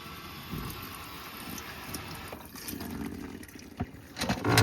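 Hot water from a Camp Lux heater runs from a sink tap in a converted school bus, a steady flow with a faint pump hum beneath and a louder gush near the end.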